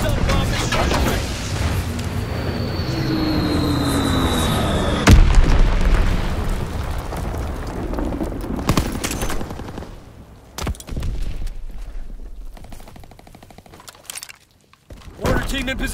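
Artillery explosions and gunfire in the Call of Duty WWII video game: a sustained barrage of loud booms and rattling shots. One sharp, heavy blast stands out before the noise thins into scattered impacts.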